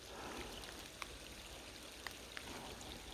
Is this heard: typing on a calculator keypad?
no